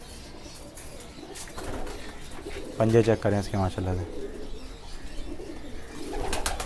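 Kale chapdar pigeons coo softly in the background while someone speaks over them nearby, and a wing flutter may be heard.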